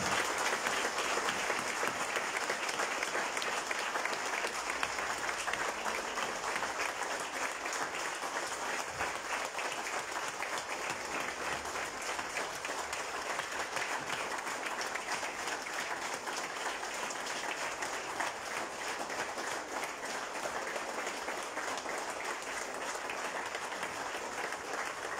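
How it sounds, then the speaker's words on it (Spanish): Sustained crowd applause at a political party committee swearing-in event in Izúcar de Matamoros, steady and even throughout at moderate level with no voices heard over it. "Quiero que les demos un fuerte aplauso a don Toribio Rodríguez"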